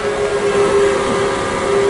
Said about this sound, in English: Then there was one long and low whistle